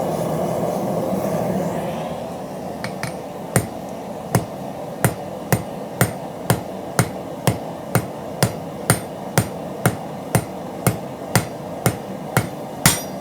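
A hammer strikes hot steel on an anvil while forging a taper for S hooks. Around twenty sharp, ringing blows fall in a steady rhythm, close and loud, after a stretch of forge roar.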